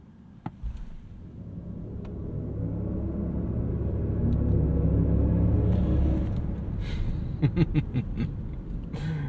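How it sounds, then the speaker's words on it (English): A low, smooth rumble swells steadily as a 2024 Rolls-Royce Spectre electric car pulls away from a stop and gains speed, quiet and without engine revs, with a few faint clicks near the end. "Let's go from a complete stop and see how the Spectre gets off the line."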